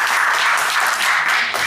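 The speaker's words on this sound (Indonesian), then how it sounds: "kita boleh tepuk tangan sekali lagi" Audience applause fills a talk or gathering hall, dense and steady clapping from many hands at close range, continuing throughout without voices over it.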